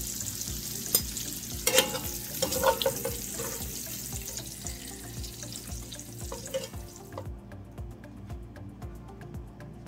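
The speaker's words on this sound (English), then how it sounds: "Remove the bacon and the sausage from the pot." Fried bacon and sausage being lifted out of a pot, with sizzling fat and clinks of a utensil over the first seven seconds, then the sound thins to a quieter simmer with light ticks.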